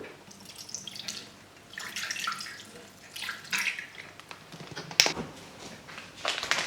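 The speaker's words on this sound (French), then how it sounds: "Je mets tout d'abord 100 g d'eau." Water poured into a Thermomix bowl while making an aperitif, a soft uneven splashing and trickling with a few small knocks, close and fairly quiet.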